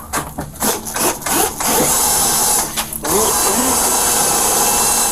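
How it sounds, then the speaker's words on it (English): A power drill whirs in bursts, then grinds steadily and loudly at close range while drilling through a door lock, with a few brief pauses and the motor straining throughout. "You go ahead and start drilling? Yeah, go ahead, start drilling."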